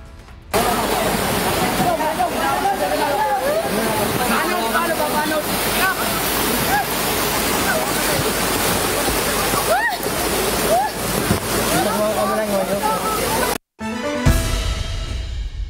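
Floodwater rushing loudly and steadily past a broken wooden footbridge in Palawan, a dense roar like a torrent, with a brief cut near the end before a different, quieter scene.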